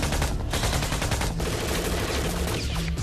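Rapid gunfire rattles in a TV crime drama shootout, dense overlapping bursts of shots sustained throughout, loud and continuous with no clear pauses.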